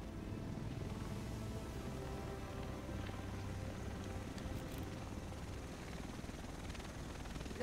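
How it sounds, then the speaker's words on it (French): Helicopter in the video game Tom Clancy's The Division, a steady low rotor rumble and engine drone that holds at an even loudness throughout, with no talk over it. "Le reste de l'équipe devrait être dans cet hélico."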